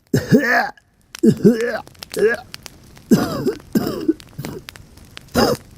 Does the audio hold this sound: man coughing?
yes